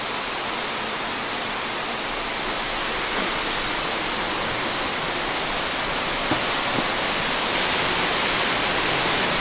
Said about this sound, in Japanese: で目の前滝壺なのか。